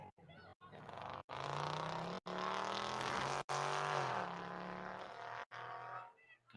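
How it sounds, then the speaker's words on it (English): Engine revving outside a women's college soccer match venue, a sustained loud roar with rising and falling pitch sweeps lasting several seconds, broken by brief gaps, carrying over the ambient crowd space. "Got a motorcycle just revving up here right outside of the bell"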